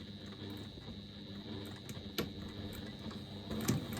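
A sewing machine runs steadily while stitching down the long side of a piece of fabric. It is a machine adapted to suit its user, with a continuous mechanical whirr and a faint rhythmic clatter, close by and with no talk.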